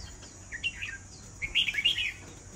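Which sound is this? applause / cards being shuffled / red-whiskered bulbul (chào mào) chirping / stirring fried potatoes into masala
red-whiskered bulbul (chào mào) chirping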